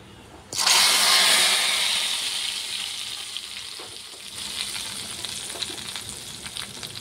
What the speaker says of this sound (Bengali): এখন খিচুড়িটা সম্বাস দিয়ে দিচ্ছি বন্ধুরা